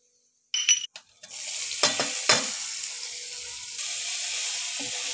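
Cumin, mustard seeds, garlic, turmeric, chili powder and salt sauté in a pan over low gas, opening with a few clinks before a steady close sizzle runs on with no talk.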